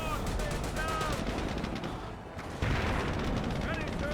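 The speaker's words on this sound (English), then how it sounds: "Incendiary mortar on the Churchill." Incendiary mortar fire landing on a British Churchill tank in Company of Heroes, dense rumbling gunfire and explosions that swell mid-way, with a commentator talking over the battle.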